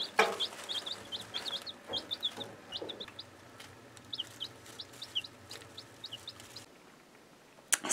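Five baby chicks peeping in a series of short, high, rapid chirps in bursts over about seven seconds, with a low steady hum underneath and no talking.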